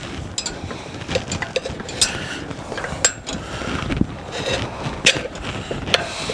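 A metal tire spoon levers a dirtbike tire onto its rim with scattered close clicks, taps and scraping knocks at an irregular pace.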